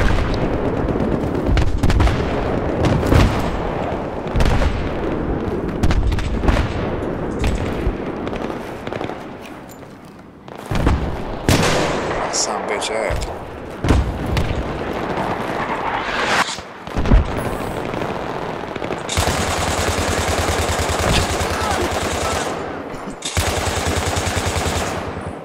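Dense Battlefield 3 multiplayer gunfire, with rapid machine-gun bursts and heavy shots, keeps up almost without pause, loud and close, with sustained automatic fire near the end.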